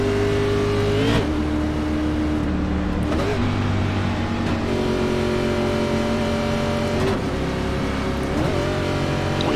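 A NASCAR Class A stock car at Daytona in iRacing holds second gear for the start, its engine droning loudly and continuously with several rising pitch sweeps as it accelerates and shifts.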